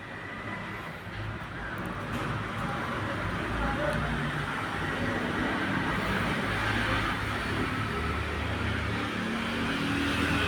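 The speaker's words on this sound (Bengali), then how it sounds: "বাহিরে অনেক গাড়ি ঘোড়া চলতেছিল" Road traffic passing outside: a continuous broadband rumble and wash of vehicle noise, steady and fairly loud throughout, with a voice faintly mixed in.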